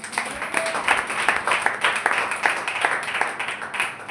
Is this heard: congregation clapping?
yes